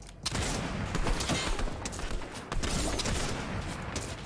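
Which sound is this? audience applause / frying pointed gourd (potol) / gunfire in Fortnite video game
gunfire in Fortnite video game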